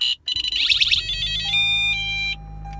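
A hardwired Cobra radar detector powering on inside a car, giving a quick run of rapid electronic chirps followed by several loud, steady tonal beeps at different pitches, close up and alone.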